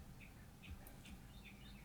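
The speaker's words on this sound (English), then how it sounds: "Oh, the birds are going. You hear that?" Birds chirp outside an open window, faint scattered tweets at a distance over a low indoor hum.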